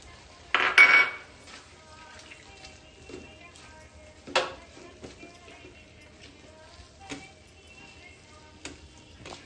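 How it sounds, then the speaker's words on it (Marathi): Sprouted mung beans being tipped into a pan and mixed into spice paste, with a few sharp metallic clinks and scrapes of a spoon against the pan, sparse and separated by quiet gaps. "आता आपण हे मोड आलेले मूग टाकूया आणि चांगले त्या ह्याच्यात मिक्स करूया मसाल्यामध्ये"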